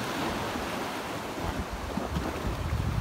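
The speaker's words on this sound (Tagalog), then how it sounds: "Ayan, medyo dito maalon." Steady rushing wash of choppy sea waves against a constant wind roar at a fishing spot, with water slapping nearby, continuous and fairly loud.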